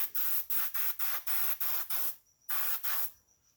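Aerosol spray paint hisses in a series of short, even bursts over a model Freightliner dump truck, ending with a longer blast after a brief pause; close, steady and alone with no voices.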